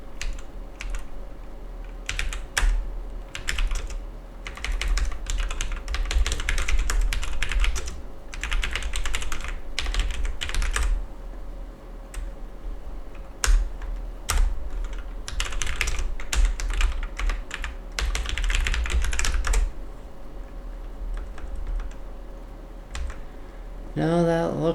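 Keys clatter in steady bursts on an NEC PC-9821 computer keyboard, fast irregular clicks running almost continuously at close range with brief pauses, over a low electrical hum.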